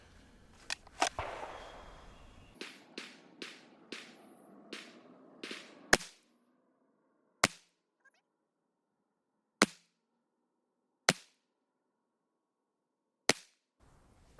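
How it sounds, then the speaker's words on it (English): A Sig Sauer M17 pistol fires 9mm V-Crown hollow point rounds at a range: a quick cluster of sharp shots, then five slow, evenly spaced single reports, each loud and crisp with a short decay and silence between. "But 10 yards, I'm going to zero and do some shooting. This is the self-defense ammo, so this is the hollow point, the V Crown Sig ammo."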